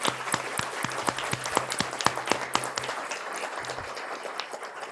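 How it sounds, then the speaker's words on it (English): People at a township board meeting applaud a retiring school crossing guard; scattered individual claps ring out in a loose, uneven rhythm, close and moderately loud, tapering off after a few seconds. "he deserves a round of applause."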